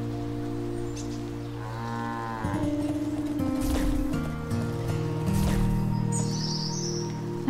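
A cow moos in the video game Wytchwood, a couple of drawn-out, close, fairly loud lowing calls over steady game music, with faint bird chirps.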